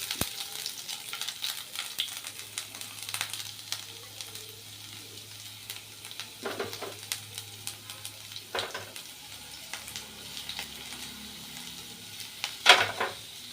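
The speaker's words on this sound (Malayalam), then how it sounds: "കടുക് പൊട്ടിക്കഴിഞ്ഞാൽ അതിലേക്ക് നമ്മൾ അരിഞ്ഞു വെച്ചിരിക്കുന്ന ഇഞ്ചി ഇട്ട് കൊടുക്കുക" Chopped ginger fries in oil after mustard seeds have popped, for a garlic pickle, giving a soft, quiet sizzle with scattered light crackles and a few sharper stirring clinks spread across the stretch.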